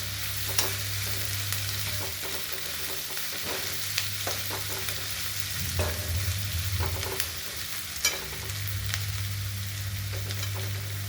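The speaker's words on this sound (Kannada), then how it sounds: "ಚೆನ್ನಾಗಿ ಫ್ರೈ ಮಾಡ್ಕೋಬೇಕು ಇದನ್ನು" Mixed vegetables fry in oil in a pan for Karnataka-style masala upma (khara bath), giving a steady close sizzle broken by occasional scraping stirs and clinks, with a low hum underneath and no talk.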